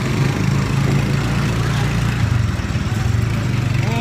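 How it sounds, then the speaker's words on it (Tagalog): A motorcycle engine droning loudly and steadily nearby with a rough, buzzing pulse throughout, without a clear approach or fade. "Yung motor ang bilis."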